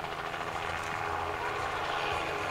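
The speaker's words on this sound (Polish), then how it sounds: "A przed nami cały czas Robinson 4-4 i Krzysztof Duk, instruktor śmigłowcowy" A Robinson R44 helicopter flies at an air show in Świdnik, a steady loud drone of rotor and engine with a continuous rumbling roar and no pauses.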